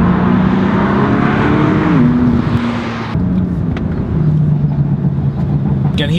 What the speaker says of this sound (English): Can hear the exhaust on the liftoff.